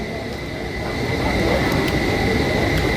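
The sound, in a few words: Kolkata Metro train running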